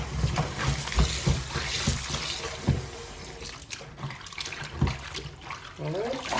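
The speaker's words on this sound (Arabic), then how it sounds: "عاودي تجدد ليها الماء ملي كيكون فيها التراب، عاودي تجدد الماء" Water pours and splashes steadily while mallow leaves are washed in a basin, with intermittent sloshing and knocks close by and no talking.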